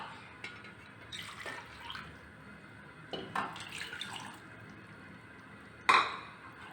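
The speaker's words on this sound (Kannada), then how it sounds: "ಸ್ಟವ್ ಅಂಟಿಸಿ ನೀರು ಹಾಕ್ತಾಯಿದ್ದೀನಿ." Water is poured from a tap into a cooking pot on a stove in a home kitchen. There are several short splashing bursts with quiet gaps between them, and a louder clatter near the end.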